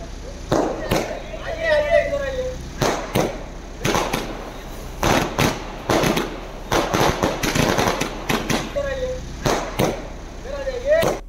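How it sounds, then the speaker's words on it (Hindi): Fireworks crack and bang in rapid, irregular bursts, some with whistling streaks, while voices talk and shout underneath. "मिठाइयां खिलाई गई, आतिशबाजी भरपूर की गई।"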